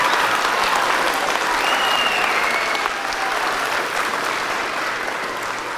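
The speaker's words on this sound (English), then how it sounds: "Give him a round of applause." Sustained audience applause at an elementary school Veterans Day program, a steady dense wash of many hands clapping that holds for several seconds without pause.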